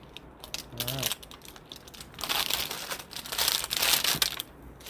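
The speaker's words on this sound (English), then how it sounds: "Strip the plastic off of this" Protective plastic film being peeled and crinkled off a Bugflector II hood deflector for a RAM Rebel, close crackling and rustling that swells in bursts, with a brief voice near the start.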